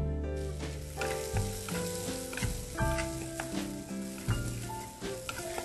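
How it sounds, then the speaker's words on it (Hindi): Sprouts tossed in butter in a pan, a close, steady sizzle of frying broken by repeated scraping and clattering strokes as they are stirred, with faint musical tones behind. "अब फिर हल्का सा बटर डाल के स्प्राउट्स, इसको भी हल्का सा टॉस करना है।"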